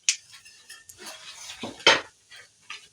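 Mustard seeds and urad dal being tempered in hot oil with clove and cinnamon, heard as a few close metallic pan and spoon clinks and scraping stirs over a light sizzle.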